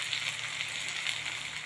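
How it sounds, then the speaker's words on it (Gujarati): Okra fries in a pan with onion and tomato, giving a steady, soft sizzle with no distinct pops. "ડુંગળીમાં અને ટામેટામાં ભીંડા 2 મિનિટ જેવા ફ્રાય થવા દઈશું"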